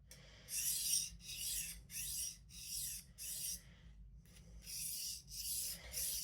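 A paring knife is drawn across a super fine sharpening stone in a series of close, quiet rasping strokes, about eight even passes with short pauses between them.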